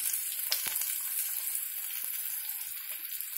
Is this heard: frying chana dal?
yes